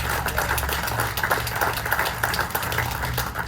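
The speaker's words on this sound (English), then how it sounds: "So give yourself an applause for that." Applause from a crowd at a community health fundraising celebration, a steady dense patter of many hands clapping, fairly loud and continuous throughout with no speech over it.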